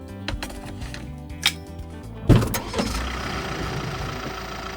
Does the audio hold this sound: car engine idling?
yes